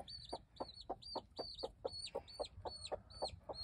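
An American Gamefowl hen clucks near her chicks in a quick, even series of about a dozen short clucks, soft and fairly close, with thin high peeping above them and no speech.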